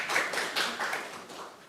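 Audience at a planning commission meeting clapping, a short soft burst of scattered hand claps heard from across the room, with no talking.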